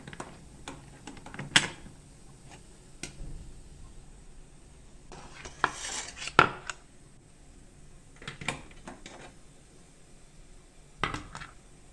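Steamed idlis being taken off the metal plates of an idli steamer, sparse light clinks and taps of metal with quiet gaps between them, close by.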